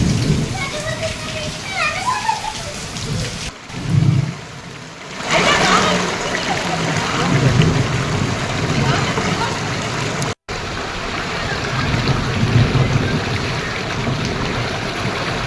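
Heavy rain pours during a storm in Palnadu, a steady broadband wash of falling water that runs through the whole stretch beneath a voice speaking over it, with one brief dropout near the end.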